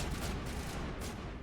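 Rapid gunfire from Mass Effect Legendary Edition fills a short burst of dense, continuous shooting, steady and close with no voices over it.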